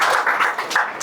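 An audience at a CMA success meet claps together, a steady wash of applause with no pauses through the short stretch.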